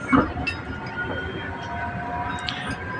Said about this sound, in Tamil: இதுதான் ஸ்கை ட்ரெயின் மக்களே